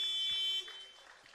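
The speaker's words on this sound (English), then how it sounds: "Costa's going to have to uncork this one to beat the quarter-time buzzer" The quarter-time buzzer sounds at a netball game in an indoor arena, a loud sustained electronic tone lasting about half a second that ends into crowd noise.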